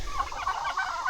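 Farm poultry clucking and gobbling close by, a steady run of chicken and turkey calls overlapping through a brief moment with no talk.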